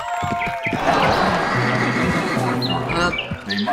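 A horse whinnies in the Riding Star video game, a bright wavering call near the start, then a busy run of chirpy, squawking game effects under continuous mixed sound.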